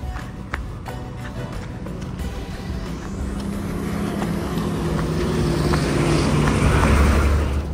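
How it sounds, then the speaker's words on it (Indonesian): An intercity bus named Dewan Duta pulls up at a roadside in Lampung, its engine and road noise swelling steadily louder as it approaches and slows, with wind-like rushing throughout. "Alhamdulillah nunggu sebentar di pinggir jalan, ini langsung datang bisnya."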